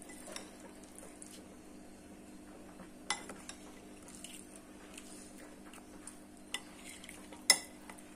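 Mint and coriander chutney mixed with its tempering: faint, soft squishy stirring close by, with a few sharp clinks of a spoon against the bowl standing out.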